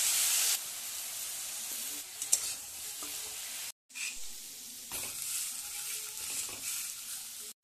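Plain brinjal sabzi with a cumin and chili tempering sizzles loudly in a pan, a steady frying hiss broken by stirring scrapes and a brief pause before the sizzle resumes, no voices.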